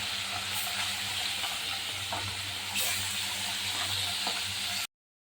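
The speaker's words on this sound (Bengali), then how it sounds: "এবার আমি মাছ ছেড়ে দেবো। মাছগুলো সুন্দর করে লাল লাল করে ভেজে নেব।" Fish coated in spices frying in hot oil in a pan for a Bengali ribbonfish curry, giving a steady, close, loud sizzle and hiss throughout with faint stirring clicks, then cutting off abruptly.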